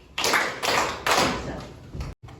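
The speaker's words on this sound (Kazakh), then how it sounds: "Үш шапалақ." A classroom of sixth-grade students in a Kazakh literature lesson gives three loud, evenly spaced group claps in a quick rhythm, close and clear with no talking.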